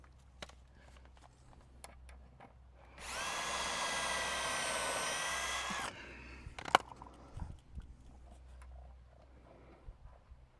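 Power drill driving screws into hinges on a garden project: a single sustained whir of about three seconds, close and fairly loud, set among quiet handling clicks and knocks before and after.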